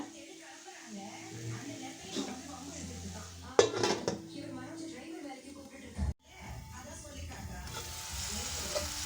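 Tomatoes fry in a pan for spicy crab masala with a soft, close sizzle broken by clattering utensil scrapes and a sharp clank against the pan; a voice is heard faintly alongside.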